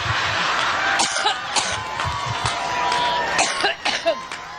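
Someone coughs repeatedly in short harsh bursts at an event in Cleveland, a fit of coughing with crowd noise and a faint voice in the background.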